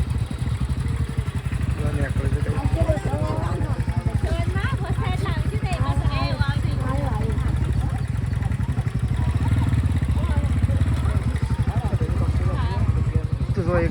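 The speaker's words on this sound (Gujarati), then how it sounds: "એક બાઇક તો નીકળી અને એક બાઇક આવું પાછળથી જાય" A motorcycle engine rumbles steadily through the whole stretch as bikes pass nearby, with people talking over it throughout.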